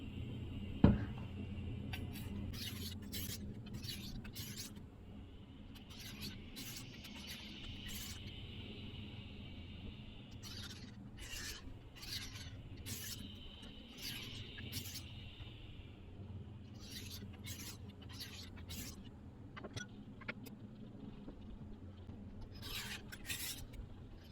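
A dull kitchen knife is drawn across the 600 grit side of a whetstone in repeated rasping strokes, coming in quick bursts with short pauses between them, close and fairly steady over a low background hum.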